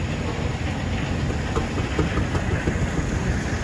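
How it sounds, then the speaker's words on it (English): A tractor or engine in a 2021 power parade at Ederville runs steadily nearby, with a rough broadband rumble and faint crackling pops throughout. Faint voices may sit underneath. "Hear that cracking and popping that thing makes when he pulls the throttle?"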